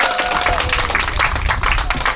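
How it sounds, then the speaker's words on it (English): Short burst of clapping from a village crowd at a gathering, brisk and close, with a brief tonal whistle near the start. "we give them a little more stronger round of applause for that"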